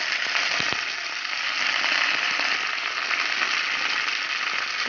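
Curry leaves with ginger and green chilli crackling in hot oil for a Kerala-style prawn curry, a dense continuous sizzle with scattered sharp pops and stirring ticks close by, no talking.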